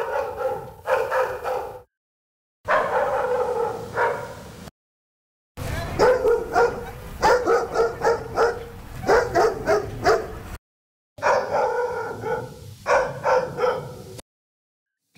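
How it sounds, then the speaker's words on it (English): Synthetic effects of three dogs barking during a rock band concert, loud clusters of barks and yips over a music bed, in several separate bursts with short silences between. "Three dogs barking during the rock band concert."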